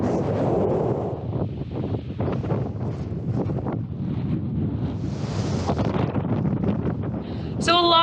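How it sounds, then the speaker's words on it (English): Wind gusts across the microphone at Ubehebe Crater in Death Valley, a steady low rumble beneath a voice speaking throughout. "It's just a little bit windy."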